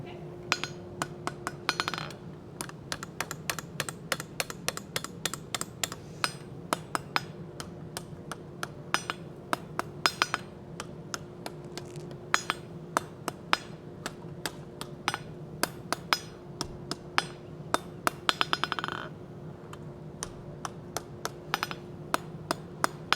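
A hammer strikes hot metal on an anvil while forging a Nordic wolf head door knocker scroll, ringing blows in a fast, steady rhythm throughout, close and bright.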